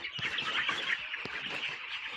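Chickens on a village farm, some of them sick, cluck and chirp in a steady, busy chorus close by, with a couple of sharper calls standing out.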